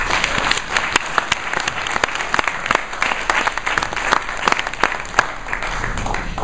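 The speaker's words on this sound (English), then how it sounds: "All our educators. Give them a round of applause." An audience applauds educators standing up in a room, a dense, steady wash of many hands clapping that holds at even volume for several seconds with no voices over it.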